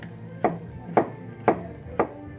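A knife chops through an onion on a cutting board, four evenly spaced, crisp thuds about half a second apart, close and distinct over a low background.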